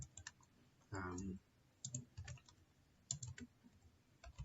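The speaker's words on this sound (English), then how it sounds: "now I type my first name" A computer keyboard clicks in brief uneven bursts as a first name is typed into a Microsoft Access form, quiet and near, with a short hum or vocal sound partway through.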